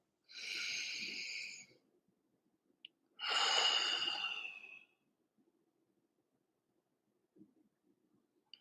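Two slow, deep breaths sound close and quiet, each a long airy rush of a few seconds separated by a pause, with no talk.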